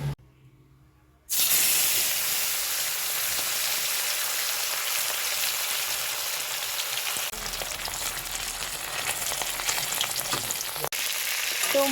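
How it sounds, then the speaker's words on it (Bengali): Fish, to be followed by slices of brinjal, fries in oil in a wok with a sudden loud sizzle. A steady, dense hiss of spitting oil follows and continues close up, without talk. "কারণ একটা মাছ ভাজা খাবে বলে আগে একটা ভেজে দেবো"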